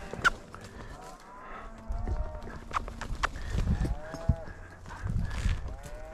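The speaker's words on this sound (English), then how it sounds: "I got cattle on the other side" Cattle lowing from across a creek on a ranch, several drawn-out moos at moderate distance, with some rustling and movement noise in between.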